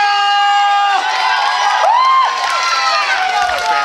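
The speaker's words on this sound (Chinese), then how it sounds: "给我们掌声加加加！" A loud crowd at an outdoor charity fair with a singer's performance cheers, whoops and whistles in sweeping rising and falling calls, a continuous roar of voices beneath.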